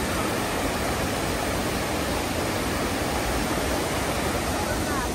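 Stream water rushing in Yosemite National Park, a loud, dense, unbroken wash of flowing water close by, steady throughout with no other sounds standing out.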